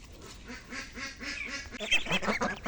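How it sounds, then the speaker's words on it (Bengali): Farm ducks quack repeatedly in a steady rhythm at morning feeding time, given leftover rice mixed with rice bran, with the calls growing denser and more overlapping toward the end, close and moderately loud. "সকালের খাবার দিতেছি আমাদের খামারের হাঁসকে"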